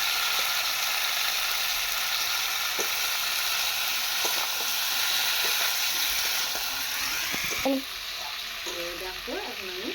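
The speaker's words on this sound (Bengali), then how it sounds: "এবার কষাচ্ছে মাংসগুলো" Chicken pieces frying and being stirred in a pan while cooking down for a curry, a steady close sizzle with occasional scraping clicks of the spoon, and a brief voice near the end.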